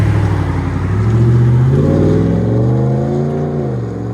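A 2023 RAM 1500 pickup with a 5.7L HEMI E-Torque V8 and a Magnaflow cat-back exhaust revs up and settles again, a deep, loud, rumbling exhaust note heard up close with no voices.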